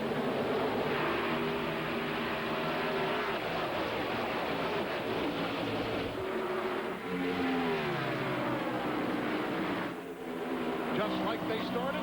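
NASCAR Cup race cars accelerate together at the start of the 1999 Winston All-Star race at Charlotte, heard from onboard as a continuous roaring engine drone with shifting pitch, under a commentator's voice throughout.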